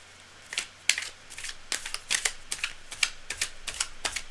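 Tarot cards being shuffled by hand make a series of crisp, irregular papery clicks and flutters, close and fairly quiet, with no talking.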